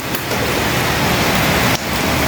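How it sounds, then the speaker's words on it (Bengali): Heavy rain driven by strong wind roars as a loud, constant wash of noise with a brief dip near the end, close and without talk. "দেখেন কি বৃষ্টি, প্রচণ্ড পরিমাণের বাতাস।"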